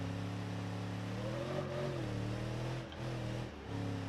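A car engine in the BeamNG driving game hums and revs while driving over a gravel road, a steady mid-pitched drone that rises and dips in pitch with two short drops in level.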